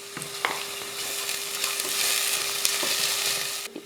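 Onion with ginger garlic paste sautéing and being stirred in hot oil, a steady close sizzle broken by several scraping stirs, no voices.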